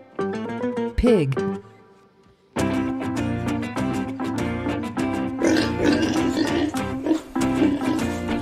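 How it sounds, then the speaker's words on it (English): A pig grunts and oinks in short bursts over loud, busy background music, with a brief voiced sound near the start. "pig."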